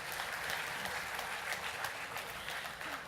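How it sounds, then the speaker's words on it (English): An audience at a panel discussion on digital health and sustainability applauds the experts on stage, a steady, fairly quiet patter of clapping heard from some distance with no break. "A louder round of applause for them once more"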